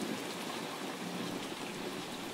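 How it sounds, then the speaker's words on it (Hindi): Heavy rain pours steadily in a dense, even hiss that never lets up, with no voices. "बारिश बहुत ज्यादा तेज हो रही थी"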